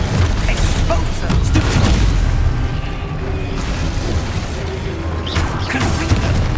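Expulso spell blast in the video game Hogwarts Legacy, a loud, sustained rumbling explosion with heavy low-end boom and crackling debris, continuous and close throughout, with faint game noise layered in.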